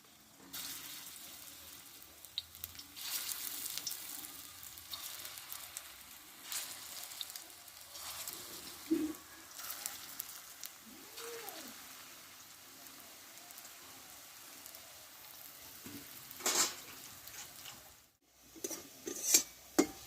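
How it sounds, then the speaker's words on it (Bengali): Oil sizzles steadily as spinach batter fritters fry, a crackling hiss with occasional clinks and stirring sounds, no voices. "এবার বাকিগুলো ভেজে নেবো"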